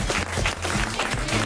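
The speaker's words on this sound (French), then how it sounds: "Je m'applaudis." Audience on a French TV show applauding, a continuous dense wash of clapping throughout the short moment.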